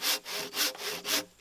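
A hand saw cuts through a wooden sill plate for an off-grid cabin in the woods, with three rhythmic rasping strokes, close and loud, each stroke a bright scratchy burst with no talk.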